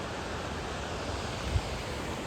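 Kothi Kohar waterfall pours as a steady, loud broadband rush of falling water, constant and unbroken throughout.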